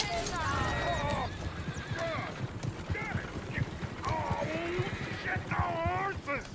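Horses neigh and whinny repeatedly over clip-clopping hooves in Red Dead Redemption 2, with several loud, rising whinnies close by and shouting voices mixed in.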